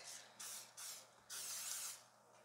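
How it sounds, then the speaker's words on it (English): Several short hissing bursts from an aerosol canola oil cooking spray onto a silicone baking pan, ending in a longer spray, close and fairly quiet. "This is just a canola oil spray."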